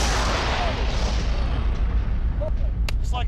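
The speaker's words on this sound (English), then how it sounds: "it's a tannerite charge. It should give us a pretty good boom." A tannerite charge set off by simultaneous rifle shots produces a heavy rumbling blast that fills the whole clip, loud and sustained with a rolling low roar, as voices come through faintly near the end.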